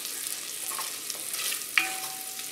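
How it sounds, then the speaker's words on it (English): Lean Sprouts pork-belly bacon frying in a pan as its fat renders, a soft steady sizzle with faint crackles and one brief sharp pop near the end, no voices. "the fat on the bacon is starting to render"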